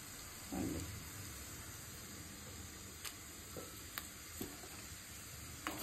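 Garlic fries in medicinal oil in a pan with a soft, steady sizzle that goes on throughout, broken now and then by faint clicks and small stirring noises, with no talking.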